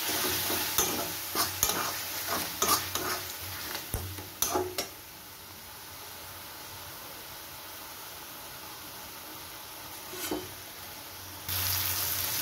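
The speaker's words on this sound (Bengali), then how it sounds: "এবার আমি এর মধ্যে টমেটো পেস্টটা আর ধনে গুঁড়োটা দিয়ে দিলাম। এটা দিয়ে একটু নাড়াচাড়া করে" A spoon scrapes and stirs through a fried masala paste with tomato paste and coriander powder in a pan, a run of close clinks and scrapes over a low sizzle that goes quiet midway before a brief stir near the end.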